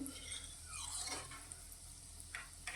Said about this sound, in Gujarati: ચમચીની મદદથી આપણે તેલને આ રીતે હલાવશું